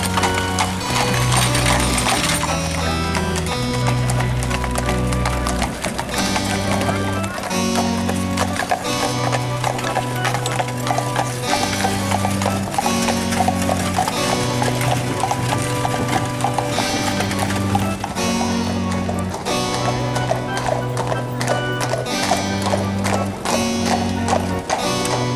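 Horse-drawn carriages roll past on the streets of Colonial Williamsburg, hooves clip-clopping in a steady rhythm over continuous loud music, close by.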